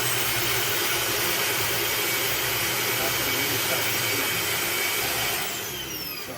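A Dyson Ball DC40 Animal vacuum cleaner runs at full power, a loud continuous broadband whooshing drone with a high motor whine, easing slightly in level just before the end.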